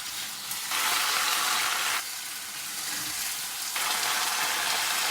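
Velveted chicken pieces sizzle hard in a hot wok during stir-frying, a loud steady hiss that swells and eases in three surges as the pieces are pushed around, with no voices.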